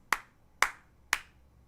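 Three sharp hand claps, evenly spaced about half a second apart, made to trigger a clap-activated light switch; close and crisp with quick decay, no talking.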